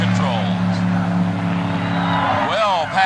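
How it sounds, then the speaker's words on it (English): A Model A Berry Wagon wheelstand drag car roars down a quarter-mile track at an NHRA event, its engine note rising and sweeping in loud pitch swoops, a second sweep near the end as it passes. "The Model A Berry Wagon heads down the track."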